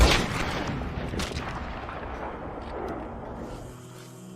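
A gunshot fired at dynamite crates in Red Dead Redemption 2, with a loud sharp onset that sets off a long rumbling blast and rolling debris tail that fades over about four seconds, no talk.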